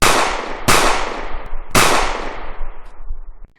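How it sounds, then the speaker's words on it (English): Three loud pistol shots as a sound effect, each a sharp crack followed by a long reverberant tail, irregularly spaced. "Suddenly, we hear 3 pistol shots."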